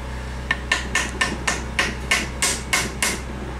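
Nine sharp, regular metallic taps ring out close up as a sensor is hammered into a Honda Grom motor during a rebuild, each strike evenly spaced about a third of a second apart over a steady low hum.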